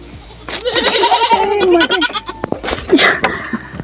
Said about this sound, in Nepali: यहाँ मुनि 2टा बाख्रा छ